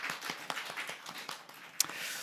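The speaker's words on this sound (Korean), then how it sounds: "우리 잘 다녀오시라고 박수로 격려하시겠습니다" A church congregation claps in encouragement, a quick run of fairly soft, evenly spaced claps in a hall, ending with one sharper clap.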